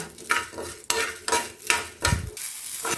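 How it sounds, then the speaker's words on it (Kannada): Urad dal and green chillies fry in a pan as a spoon stirs them, giving close, loud sizzling with rhythmic scraping strokes roughly every half second and no talk. "ಉದ್ದಿನ ಬೇಳೆ ಎಲ್ಲ ಗೋಲ್ಡನ್ ಬ್ರೌನ್ ಬರಬೇಕು ಮತ್ತು ಈ ಮೆಣಸಿನ್ಕಾಯಿ ಎಲ್ಲ ಬಾಡಬೇಕು ಅಲ್ಲಿವರೆಗೆ ಚೆನ್ನಾಗಿ ಹುರ್ಕೊಳ್ಳೋಣ"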